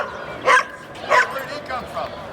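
Dogs at an outdoor dog show at The Forks in Winnipeg, Manitoba, bark in several sharp, separate yips, close and loud, roughly every half second to second.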